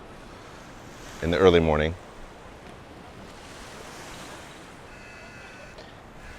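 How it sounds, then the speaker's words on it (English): Ocean waves roll onto sandy Akumal Beach in Mexico in the early morning, a soft, steady wash with some wind, heard under a brief spoken phrase near the start. "So this is Akumal Beach"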